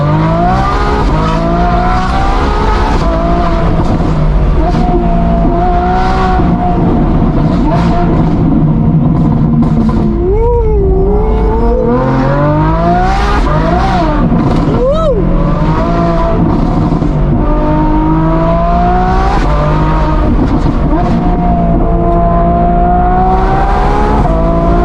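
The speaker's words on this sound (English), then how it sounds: "How much of a change do you think we're gonna have in the sound of this exhaust?" Exhaust of a twin-turbo Ferrari F12 revving, loud and continuous with rising and falling engine pitch sweeps, a dense throaty roar filling the whole stretch.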